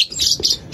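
African lovebirds kept as pets give a few quick, high chirps close by. The bursts come in a short, bright cluster with no talk over them.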